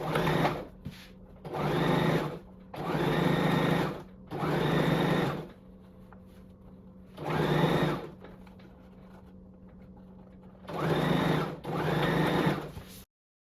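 A sewing machine stitches a fabric strap for a halter neck top in several bursts of rapid, whirring needle strokes, separated by short pauses, close and clear with no talk.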